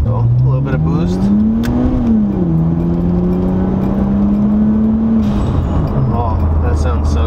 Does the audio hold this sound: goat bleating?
no